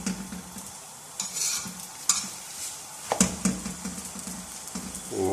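Saag paratha frying in ghee on a hot pan, turned over partway, with soft sizzling, scraping and a few clattering utensil knocks against the pan, no voices.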